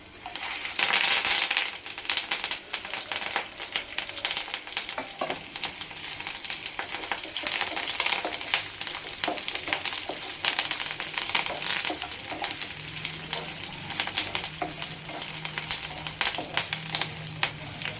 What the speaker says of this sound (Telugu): దాంట్లోనే తాలింపులు, ఎల్లుల్లిపాయలు, తాలింపులు, జీలకర్ర, కరివేపాకు, ఎండుమిరపకాయలు వేపుకుందాం.